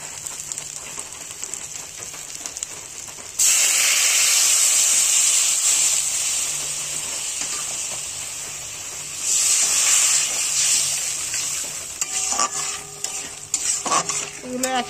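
Water poured into hot spiced oil in a pan while cooking tel potol (pointed gourd) bursts into a loud hissing sizzle, surges again midway, then settles into a steady bubbling simmer with a few clinks near the end.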